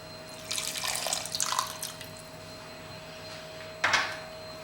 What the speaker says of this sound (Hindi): थोड़ा पानी में और डाल देता हूँ।